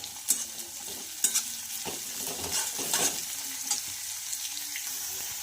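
Chopped green chillies, cabbage and other ingredients frying for homemade egg fried rice, a steady close sizzle broken by periodic scraping stirs of the spatula, with no voices.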